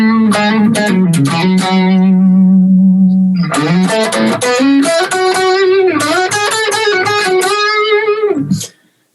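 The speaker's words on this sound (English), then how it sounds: "if you sort of back the volume off and the gain, you can get some really nice, sort of more mellow tones" Mellow electric guitar played through a valve amp with volume and gain turned down: sustained, ringing notes and chords, clean with light effects, a steady phrase running continuously before stopping abruptly near the end.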